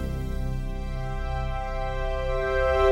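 A sustained chord, likely on recorder, rings out with steady harmonic tones, swelling slightly in volume toward its close, heard alone without talk.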